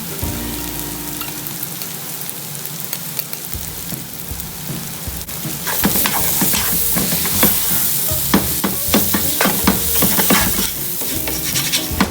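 Turmeric, chilli and coriander powder stirred in a hot pan for Kerala-style beef curry, a soft sizzle at first that swells into loud, dense crackling frying with sharp spatter pops, alone without speech.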